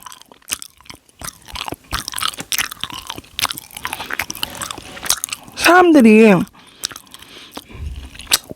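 Licorice jelly chewed up close for ASMR, with rubbery, squishy bites and soft crunches mixed in among steady talking and a brief hummed sound.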